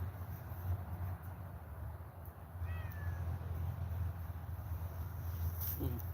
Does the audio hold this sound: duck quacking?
no